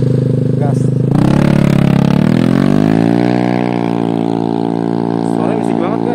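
Honda PCX scooter fitted with a WRC exhaust, idling then revving up hard, with the engine pitch climbing and holding a loud, raspy drone close by, with no talking.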